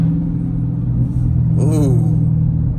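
A 2019 Dodge Charger Hellcat with its mid mufflers deleted rumbles steadily from inside the cabin, a deep, constant idle drone with a brief voice speaking over it partway through.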